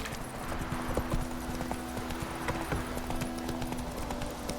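Roach, the horse in the video game The Witcher 3, gallops in a quick, even clip-clop of hooves that carries on steadily and stays fairly near, with no talking.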